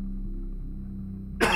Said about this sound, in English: I'm trying to muffle my coughs, but the microphone's still picking them up